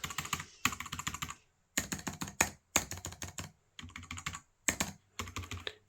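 Quick bursts of light typing on a Perixx PERIDUO 613B wireless compact chiclet keyboard, soft key clicks in rapid runs separated by short pauses, close and clear with no talking.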